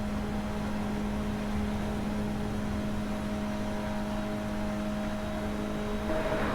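Race car engines in the Gran Turismo 7 video game hum at a steady, sustained tone, with a slight swell near the end as the pack runs closely in a slipstream pass.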